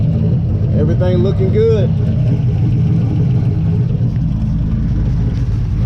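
Turbo LQ9 engine idling in a Nissan 240sx on its first start, a loud steady low rumble throughout, with someone speaking briefly over it.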